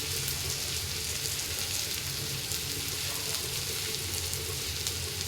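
Onions fry in hot oil with a dense, constant sizzle and crackle, close and steady for the whole stretch, with no talking.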